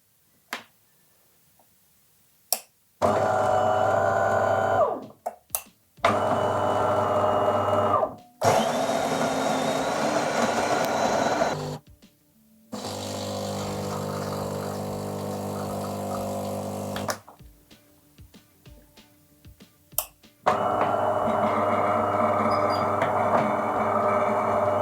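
A home espresso machine pulls a 15 ml shot, with loud steady pump buzzing in several bursts separated by short pauses and clicks, close up and with no talking.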